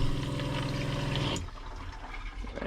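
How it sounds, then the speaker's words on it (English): Water runs from a tap in a camper van, a steady close splashing stream that cuts off abruptly partway through, leaving faint room sound. "Running water."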